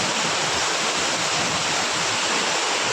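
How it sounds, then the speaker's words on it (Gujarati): Heavy rain pours onto deep floodwater in a steady, dense roar, loud and unbroken with no voices over it. "અને જોરદાર વરસાદ છે મિત્રો"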